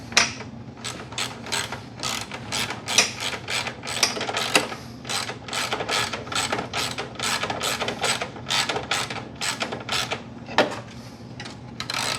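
A ratchet wrench bolts up the horns in the nose of a buggy being rewired after a fire, giving a close, loud burst of rapid clicking strokes in a steady rhythm for about twelve seconds, with no voices.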